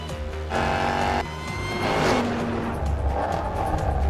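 A Project 8 car accelerating hard on a track, with a steady engine note that rises in pitch as it pulls, loud and close, with no talking.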